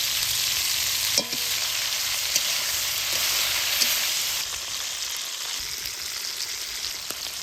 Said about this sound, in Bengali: প্রথমে হালকা করে চিংড়ি মাছগুলো ভাজি নিব